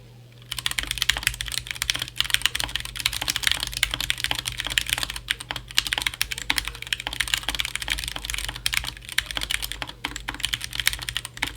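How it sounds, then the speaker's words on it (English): Fast, continuous typing on a mechanical keyboard with finished stabilizers and unlubed switches: a dense, close stream of crisp keystroke clacks with no voices. "So we're gonna go and do a typing test."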